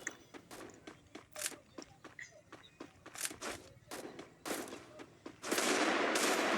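Rapid bursts of gunfire from the Free Fire video game, a string of sharp shots at uneven intervals leading into a louder sustained burst at the end, with no talking over it.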